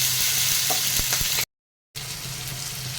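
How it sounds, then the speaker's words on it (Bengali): Tomato and nigella seeds frying in hot oil in a pan, a steady loud sizzle with faint stirring clicks, broken off by a short stretch of silence before the sizzle comes back. "তো এই তেলের মধ্যেই দিয়ে দিলাম কালো জিরা আর দিয়ে দিলাম টমেটো একটুখানি কষিয়ে নেবো টমেটোটাকে"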